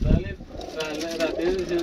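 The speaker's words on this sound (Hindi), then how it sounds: "हाँ ये कबूतर है, ये बच्चे पाल रही है" A pigeon, a female raising her chicks, coos close by in low rolling calls that swell toward the end, while a person talks over it.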